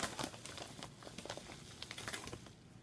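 A paper envelope from a delivery is handled and opened, giving a dense close crinkling and rustling with small crackles and taps throughout, fairly quiet and without speech.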